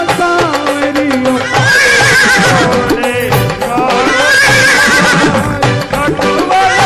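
A horse neighs and whinnies repeatedly over loud devotional music with singing, the calls rising and falling in long drawn-out cries that sit in the thick of the musical mix.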